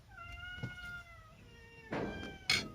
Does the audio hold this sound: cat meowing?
yes